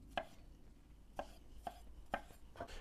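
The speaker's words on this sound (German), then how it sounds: "Auch die hacken wir uns einmal kurz klein" A knife chops vegetables on a board in a home kitchen, with five sharp, distinct cuts at irregular intervals, close and fairly quiet, with no voices.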